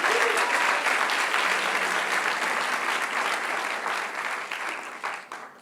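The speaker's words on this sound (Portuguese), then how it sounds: "Aplauda Jesus, você que crê em Jesus." A church congregation at Zion Lisboa applauds Jesus with dense, sustained clapping that fills the room at full strength, then thins and fades toward the end.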